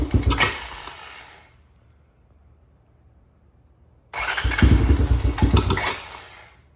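A 2017 Honda TRX250x ATV in need of a rebuild roars into life, revving loudly up close, fading to near silence, then catching again with a second burst of loud, sputtering engine noise.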